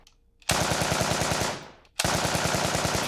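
Two loud, rapid bursts of automatic pistol fire, each a dense rattle of closely spaced shots lasting about a second, separated by a brief pause, with no talk.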